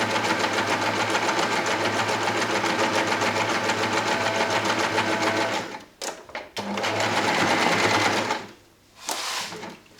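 A loud, close sewing machine hums steadily while stitching a curved seam, broken by short stops and clicks near the end.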